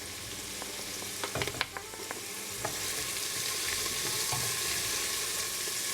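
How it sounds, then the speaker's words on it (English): Cumin and turmeric powder fry in a pan with onion, giving a soft, steady sizzle. Scraping stirs and a few clinks come through near the start. "I'm going to fry this up for about 2 minutes"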